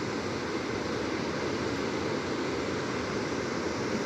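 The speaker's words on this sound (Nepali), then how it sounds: "मर्स्याङ्दी नदी हो" Steady broadband rush of the Marsyangdi river flowing, a continuous even roar with no pauses or voices.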